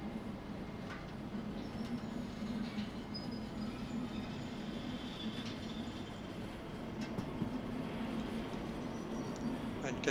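Small locomotive in the train simulation game Derail Valley rolling along with a continuous low rumble and steady engine drone, faint rail clicks and squeals on top, constant and fairly close throughout.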